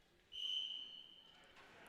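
A referee's whistle blows once to start a wrestling match, a single sharp, steady high tone that fades over about a second in a quiet gym.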